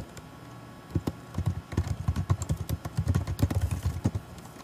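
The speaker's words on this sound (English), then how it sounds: "And we'll start typing our abstract." Typing on a Mac computer keyboard while writing a paper: a steady run of close, quick key clicks with uneven rhythm, alone without talk.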